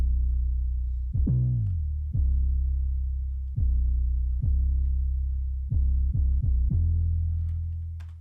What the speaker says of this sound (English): Let me show you how I did the 808.